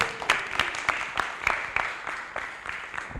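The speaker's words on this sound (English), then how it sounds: "Let us give her a better clap" An audience claps for a spoken word poet at an International Youth Day 2024 event, a thin, scattered applause of separate hand claps, moderately distant and fairly sparse.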